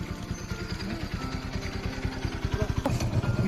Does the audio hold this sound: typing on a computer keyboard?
no